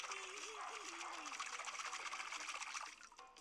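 Water splashing and dribbling in a playful dog's water fight, a steady wet splatter running nearly continuously, fairly loud and close, with a voice-like tone drifting underneath before it tapers off.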